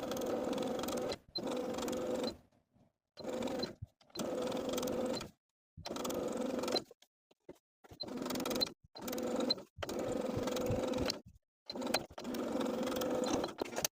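Sewing machine stitching bias tape around the armhole of a summer top bodice, running in repeated bursts of steady motor whir separated by short pauses.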